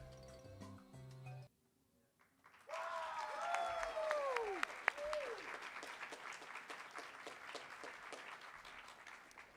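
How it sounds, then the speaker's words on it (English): A crowd applauds at an in-person KH20 award celebration for the Million Dreams Award. After brief music and a pause, dense, sustained clapping breaks out, with whistles and cheers rising above it. "Let's get another round of applause for everyone!"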